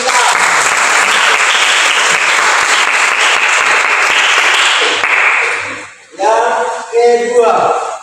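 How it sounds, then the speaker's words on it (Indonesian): A classroom group claps for a classmate, a dense, steady round of applause lasting about five seconds before fading, followed by a few voices talking. "kita berikan tepuk tangan untuk teman kita"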